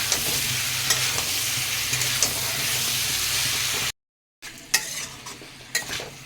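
Potatoes and kohlrabi sauté with cumin, chilli and ginger paste in a pan, giving a steady close sizzle with scraping stirs. The sizzle breaks off in a short silence, then returns with sharper clinks of a utensil against the pan.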